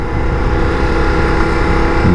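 A 2024 Ducati Diavel V4 on the move, a loud, steady engine drone mixed with wind rush, close and continuous with a slight rise at the end.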